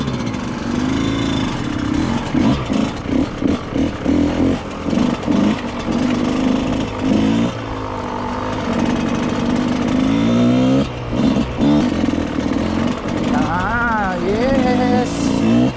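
A Yamaha YZ motocross motorcycle engine running loud and close, its pitch climbing and dropping through repeated revs, with voices talking over it at times.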